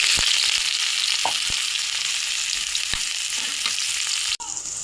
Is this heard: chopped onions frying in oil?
yes